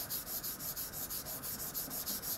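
A knife is sharpened freehand on a waterstone, giving a soft, steady rasping rub. The strokes repeat in an even back-and-forth rhythm and sound close and quiet, with no voices.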